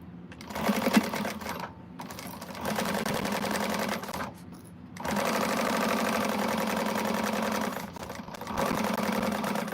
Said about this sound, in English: let's get that sewn on at the seam allowance given